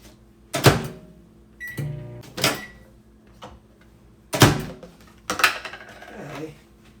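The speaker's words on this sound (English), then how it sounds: "I'll microwave this for 1 minute" A microwave oven heating food for one minute in a home kitchen, with several loud clunks and clicks from the door and buttons and a short beep, then a mechanical hum between the sharp bursts.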